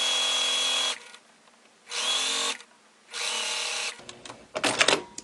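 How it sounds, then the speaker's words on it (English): A sewing machine stitching a Y seam runs in three steady bursts of fast whirring with brief pauses between, followed by a few short clicks and rattles, close and clear. "Then you're going to lower the presser foot again and simply align the two pieces and just sew straight down."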